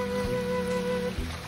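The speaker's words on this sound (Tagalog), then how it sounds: "Nalalagyan pa yung ulan niyan" Rain falling outdoors during a meal of raw oysters, a dense, even patter of drops with faint steady tones underneath, continuous and fairly near, with no voices.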